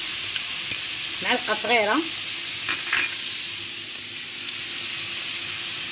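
Kofta meatballs fry with spices in a pan, a steady close sizzle and hiss running throughout, with a short whistle-like sound early on and someone speaking briefly.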